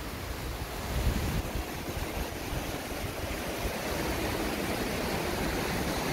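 Strong wind roars at Wentworth Falls in the Blue Mountains near Sydney, Australia, blowing waterfall spray skyward; a loud, continuous broadband rush with gusty low buffeting against the microphone.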